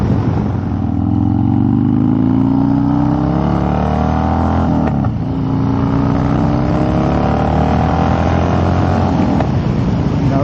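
A Harley Dyna with a 95-inch motor revs repeatedly as the throttle is eased on, a loud, close, rumbling engine rising and falling in pitch with no voices.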